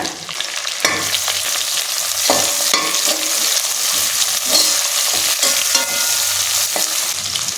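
Sliced onions fry and get stirred in hot oil for tomato biryani, a loud, steady sizzle broken by repeated scraping stirs throughout, with no talking.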